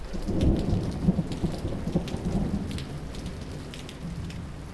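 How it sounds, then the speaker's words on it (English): Heavy rain pours steadily with low rumbles of thunder underneath, no voices. "It hasn't once stopped raining."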